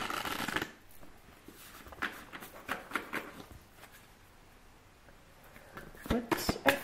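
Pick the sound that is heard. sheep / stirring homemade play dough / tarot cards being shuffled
tarot cards being shuffled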